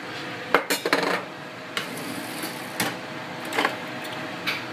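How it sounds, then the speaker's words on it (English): Utensil scraping and clinking against a pot while seasoning powder is stirred into a beef stroganoff sauce, a handful of close, irregular metallic knocks and scrapes with quieter stirring in between. "We'll start stirring it around."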